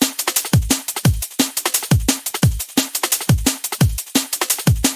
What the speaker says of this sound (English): What I've made is this drum beat,